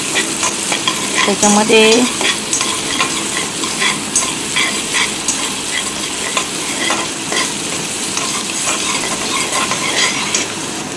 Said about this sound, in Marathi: हे छान परतून घ्यायचं आहे लाल होईस्तोवर